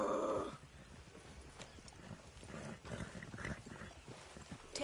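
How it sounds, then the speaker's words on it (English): A horse acting up in Red Dead Redemption 2: a loud burst at the start, then steady, moderately loud hoof clatter and restless horse noises with brief sharper stamps through the rest. "Damn horse acting up on me."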